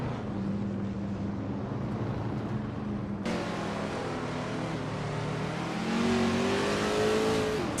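Racing engines of a pack of cars at the start of a race at Misano, led by a 1969 Shelby GT 500, a steady droning roar that swells as the cars accelerate, with no talk.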